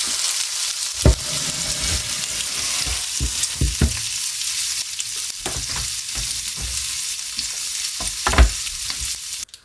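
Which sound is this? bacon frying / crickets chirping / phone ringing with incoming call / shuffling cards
bacon frying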